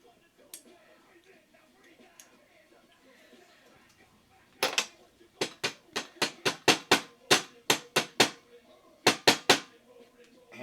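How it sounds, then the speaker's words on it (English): A hammer drives a pin into a Smith & Wesson 4006 pistol receiver, sharp metallic taps in quick rhythmic bursts after quieter handling noise, close and loud, a short pause between groups of strikes. "Hammer your pin in."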